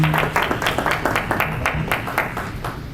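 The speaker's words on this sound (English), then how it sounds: "Round of applause for Dr. Vasavi." Audience applause at an Indian American business coalition annual event, a room of people clapping in a brisk uneven patter that thins toward the end.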